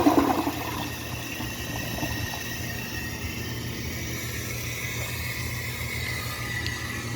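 A 1983 Vitromex toilet flushes a washcloth down, a sharp opening whoosh giving way to a steady rushing of water as the bowl drains and refills nearby.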